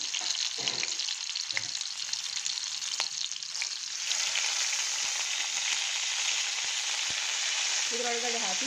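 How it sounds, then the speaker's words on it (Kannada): Leafy greens sautéing in a cooking pot for chutney, a steady bright sizzle throughout with occasional soft stirring scrapes, close and continuous. "ಇದರೊಳಗಡೆ ಹಾಕಿ ಚೆನ್ನಾಗಿ ಬಾಡಿಸ್ಬೇಕು"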